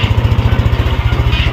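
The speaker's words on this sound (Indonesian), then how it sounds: "suara mesinnya lebih halus dibandingkan dengan Aerox ataupun NMAX" A 2024 Yamaha Lexi LX 155 VVA scooter engine idles close by with a loud, smooth, evenly pulsing low throb and a steady rhythmic putter throughout the short stretch.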